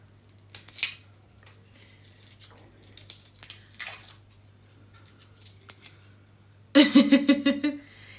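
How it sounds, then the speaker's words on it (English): Garlic peeled by hand in a home kitchen while fresh-fish pepper soup is prepared, heard as scattered dry, papery crackles and rustles up close, ending in a brief louder flurry of snapping, crinkling skin. "I'm peeling the garlic now."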